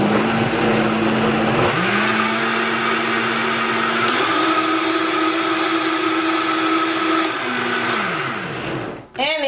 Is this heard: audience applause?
no